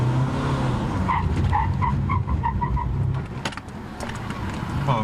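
Tires of a Mitsubishi Montero Sport screech in a series of short chirping squeals on concrete under hard braking, over a steady engine roar, up close, with a few sharp clunks near the end.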